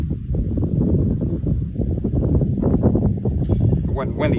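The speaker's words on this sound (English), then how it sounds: "So now the wind is blowing" Wind blowing outdoors, a loud gusty rumble buffeting the microphone continuously, with some rustling mixed in.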